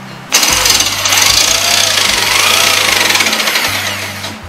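A jigsaw with a reused blade grinds loudly and steadily through material, a harsh buzzing rattle that starts abruptly and runs continuously for several seconds before easing off.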